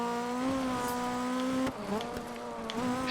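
A rally car engine in DiRT 3 on Xbox 360 hums with a strong steady tone, shifting pitch around the middle as it revs and settles, loud and close.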